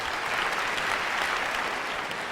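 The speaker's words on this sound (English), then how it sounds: "You weren't supposed to clap that." A studio audience claps in dense, steady applause at a comedy consumer-affairs show, loud and close, sustained evenly for a couple of seconds without any voices on top.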